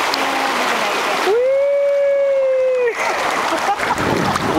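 River water rushes and splashes continuously while tubing through rapids, a loud steady wash with a person's sustained vocal cry rising over it in the middle.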